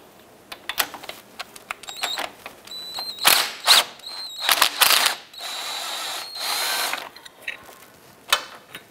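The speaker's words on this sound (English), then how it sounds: "Using an 18 millimeter socket to remove this nut on our lower ball joint bolt" An 18 mm socket on a ratchet or power tool removing the lower ball joint nut on a 2008-2013 Nissan Rogue, with bursts of whirring and ratcheting clicks separated by short pauses, close and fairly loud.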